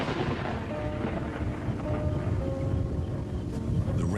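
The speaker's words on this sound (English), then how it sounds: "The rainstorm brings healing and relief to the land and the lions" Heavy rainstorm with rolling thunder on open land where lions live, a dense continuous roar of downpour and low rumbling throughout, with a few brief louder bursts near the end.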